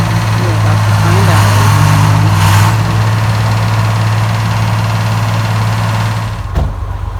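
A truck engine runs steadily at a loud, close idle with a low constant hum while pulling on a stuck truck during a wood-hauling job with a tractor, then cuts off sharply near the end.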